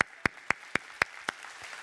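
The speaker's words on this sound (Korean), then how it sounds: "우리 박수로 좀 환영해 주시면 감사하겠습니다." Six sharp, evenly spaced handclaps ring out in a church, fairly faint, in a steady beat roughly four per second before they stop.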